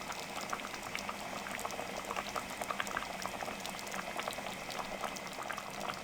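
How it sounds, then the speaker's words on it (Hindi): Fish qorma boils steadily in a pot, a dense continuous bubbling and popping that stays even and close throughout, with no voices. "2 से 3 उबाल आ चुके हैं"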